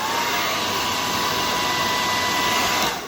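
A hair dryer blows steadily at a medium setting, a loud constant whooshing hum with a faint whine, tapering off at the end.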